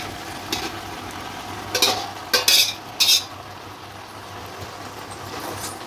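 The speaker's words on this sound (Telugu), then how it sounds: "దీన్ని ఈ మొత్తం మసాలాలు దీనికి పట్టేటట్టు ఈ విధంగా కలిపేసుకోండి." Macaroni pasta being stirred with masala in a pan, giving a steady low sizzle under several short, louder scraping bursts of a utensil against the pan.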